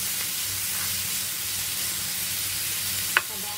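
Vegetarian sambal fries in a pan with a steady, close sizzle and hiss throughout, and one brief scrape of stirring near the end.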